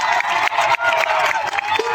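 Crowd at an Adivasi Day rally in Mahuva, Surat, clapping in thanks to the police staff, with steady dense applause and some cheering running throughout.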